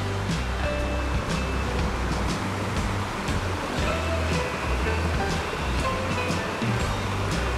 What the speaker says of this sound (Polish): Następne jakieś ujęcie wody pływającej, tylko słychać szum.